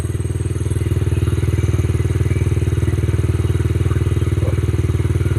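A Yamaha TTR50E motorcycle engine idles while warming up, a loud, close, even putter with a rapid regular pulse.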